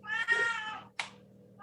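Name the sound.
cat meowing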